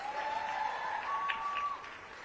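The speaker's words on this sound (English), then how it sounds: "Listen to the crowd." Applause and crowd noise from an audience at an NABJ interview event with Donald Trump, a steady wash of clapping and murmur, moderately loud and continuous, fading slightly toward the end.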